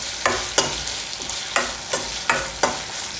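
Tomatoes fry with curry leaves in a pan, a soft steady sizzle broken by about seven sharp scraping stirs of a spoon against the metal, close up with no talking.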